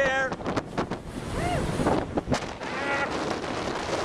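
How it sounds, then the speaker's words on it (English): Strong wind rushes and buffets the microphone continuously at a beach, with faint surf underneath and brief snatches of talk. "you can see it was pretty windy"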